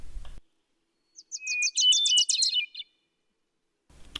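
A small bird in trees beside a lakeside path at Vasona Lake County Park sings a quick, bright trill of rapid chirps, clear and fairly close, set in quiet surroundings.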